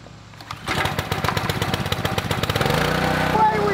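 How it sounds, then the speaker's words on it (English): A Honda-powered pressure washer engine starts up, a pull-start sputter building quickly into a rapid, chugging small-engine putter that settles into a steady run, close and fairly loud. "out comes my unbeatable Honda powered pressure washer"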